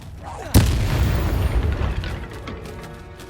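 Spell-casting effects from the Hogwarts Legacy video game: a sharp booming burst followed by a sustained rumbling, crackling magical wash that slowly fades, loud and close.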